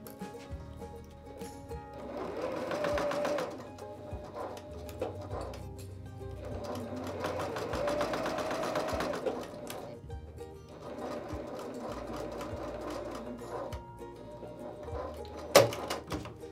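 A sewing machine stitches the lining of a fabric basket in three separate bursts of rapid, even mechanical whirring, with quiet pauses between runs and a brief clunk near the end.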